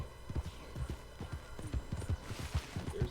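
Horse hooves clip-clop steadily and fairly quietly in a video game, a repeated rhythmic clatter of walking hoofbeats with no talk over it.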